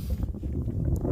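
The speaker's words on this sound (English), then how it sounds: "the wind is just a little heavy today" Heavy outdoor wind buffets a microphone in a steady low rumble that fills the short moment without pause, with no talking.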